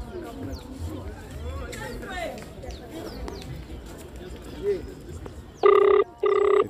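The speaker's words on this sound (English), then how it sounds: "It's ringing." A phone rings twice in two long electronic bursts near the end, after a stretch of quiet outdoor background with faint bird calls.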